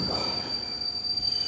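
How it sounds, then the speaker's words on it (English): Train wheels squeal as a train brakes to a halt in a stage production of Murder on the Orient Express. A sustained, piercing metallic whine holds steady over a low rumble, with no talking. "The train is stopping."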